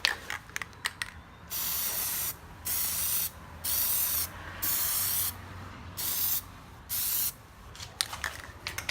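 A spray can lays a light coat of Plasti Dip onto car head and tail lights in about six steady hissing bursts of a second or so each, close and loud, with clicks and short pauses between them.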